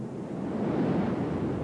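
Ocean waves surge and break in a steady, loud roar of surf, with a dense rushing wash and slight wind buffeting throughout.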